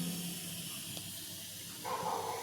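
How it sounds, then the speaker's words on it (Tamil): A DIY CO2 generator reaction for a planted aquarium fizzes and hisses steadily, a soft continuous bubbling wash that brightens and grows slightly louder near the end, with no talking. "CO2 ஜென்ரேட் ஆக ஆரம்பிச்சிருச்சு."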